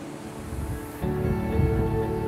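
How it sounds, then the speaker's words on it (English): Winter ocean waves break at Spanish Point, a steady broadband rush of surf that swells louder partway through, close and continuous with no talking. "And look at these beautiful waves."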